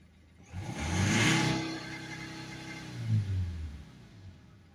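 A Subaru 2.0 boxer diesel engine in an Outback with a clogged particle filter is revved hard from idle, rising to a loud roar, dropping back, then giving a shorter second rev.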